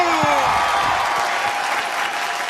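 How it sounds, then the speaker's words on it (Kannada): A studio audience on a Kannada television game show applauds a round winner, dense sustained clapping from a crowd, loud and steady throughout without any voices. "ಈಗ ಈ ಸುತ್ತಿನಲ್ಲಿ ಗೆದ್ದಿರ್ತಕ್ಕಂಥ ರಾಜುಗೆ ಅವರಲ್ಲಿ ಜೋರಾದ ಚಪ್ಪಾಳೆ"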